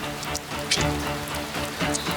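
Rain patters steadily on a surface, with scattered drops striking close by in an even, moderate wash of sound and no voices.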